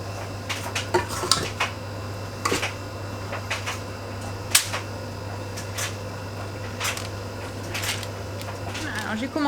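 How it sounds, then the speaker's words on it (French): Dishes and cutlery clink repeatedly while a table is being set. Sharp, scattered knocks and chimes sound close by over a steady low hum. "Alors j'ai commencé à mettre la table."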